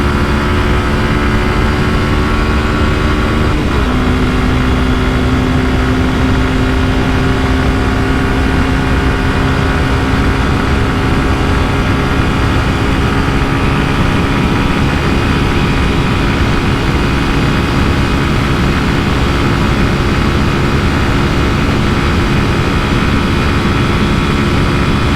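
A 2019 Suzuki Gixxer SF 150 motorcycle engine drones steadily through a top speed run, its tone dipping briefly at a gear change then holding a constant loud roar with heavy wind noise throughout.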